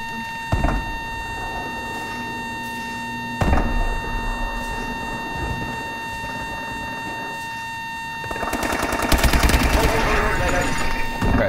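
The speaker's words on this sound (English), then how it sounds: "Sentry gun. Killing everybody." Rapid bursts of automatic gunfire from a sentry gun in Call of Duty: Advanced Warfare, with scattered shots early on and a loud, dense stretch of fire near the end, set over a steady game hum and occasional talk.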